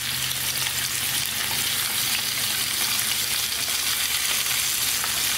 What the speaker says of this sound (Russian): будем обжаривать куриную голень до румяности с обоих сторон